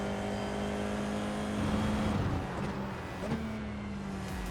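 A race car in iRacing brakes into a hairpin and then goes back on the power, a steady engine drone that dips and rises again, loud and close with no talk.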